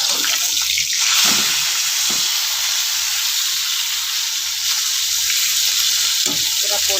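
Rohu fish frying in a pan of hot oil, a steady broadband sizzle held for the whole stretch, fairly loud and close, with a few soft knocks on top and no talk.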